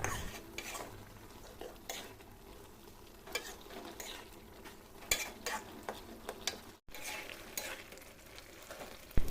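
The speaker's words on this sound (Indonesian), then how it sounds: "Jangan lupa diaduk-aduk terus supaya santannya tidak pecah gitu ya teman-teman" Cassava leaves simmering in coconut milk are stirred in a pot, with a steady bubbling sizzle and repeated scraping and clinking of a utensil against the pan, fairly close and without talk.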